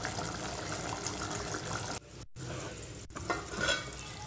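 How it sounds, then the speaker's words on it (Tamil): Tamil kuzhambu curry simmers in a pot on low heat, giving a steady close bubbling hiss that briefly cuts out midway and then resumes. "குழம்பு நல்லா கொதிச்சு வெந்துட்டுருக்கு."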